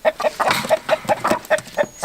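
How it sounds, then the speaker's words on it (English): Young Welsummer hens cluck in a quick, regular rhythm close by, soft repeated clucks with a few louder bursts mixed in. "So this is one of the Welsummer hens."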